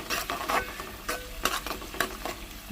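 Soaked chana dal being stirred in a cooking pan for a radish-leaf chana dal curry, with close spoon scrapes and soft sizzling in a few uneven strokes, no voices.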